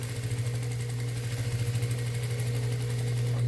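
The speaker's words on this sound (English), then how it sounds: "we'll just sew down about 6 inches" A sewing machine stitches a seam down a pillow edge, its motor humming steadily with a rapid, even needle rhythm, close and continuous with no talk.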